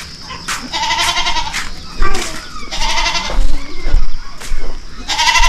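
Goats on a farm give several loud, close, quavering bleats in bursts over the whole stretch, overlapping one another, with some background voices.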